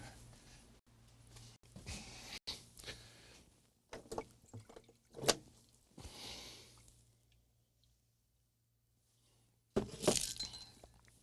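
A coffee cup is rinsed at a sink, with faint running water, splashes and scattered clinks of ceramic, soft and irregular against quiet room tone.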